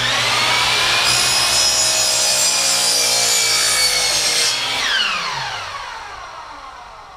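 A miter saw cuts through a piece of wood while building a wooden toolbox. The blade whines loudly and steadily through the cut, then winds down and fades as it spins to a stop.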